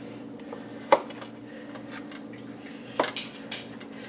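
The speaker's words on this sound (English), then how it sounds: "We're going to cut up and cube up this meatloaf as if it were meatballs." A knife cubes leftover meatloaf on a cutting board, giving two sharp clacks of the blade against the board plus a few softer taps over a quiet steady background hum.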